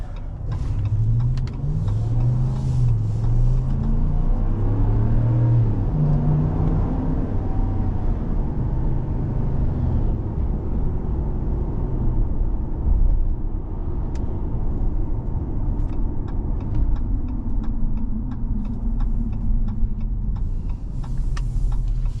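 A 2023 Ram 1500 Rebel pickup with the 5.7L eTorque engine drives along, heard from inside the cab as a steady low engine and road drone with light ticking over it.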